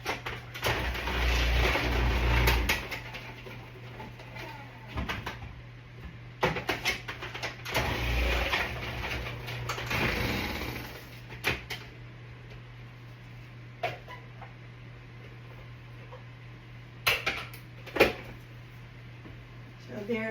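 Zucchini chunks laid on their side are shredded in a food processor, producing loud whirring, grinding bursts with quieter gaps, while a person talks throughout.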